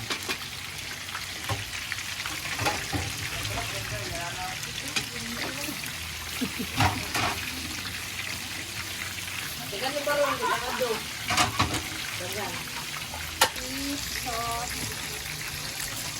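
Hotdogs frying in a pan, a steady sizzle and crackle running throughout beneath people talking in a busy kitchen.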